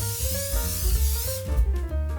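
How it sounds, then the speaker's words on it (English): Spray oil hisses from a can onto a pan while making a ham and mushroom quiche, a steady close spray over a low musical bed that cuts off partway through. "Start off by giving the pan a bit of a spray with spray oil."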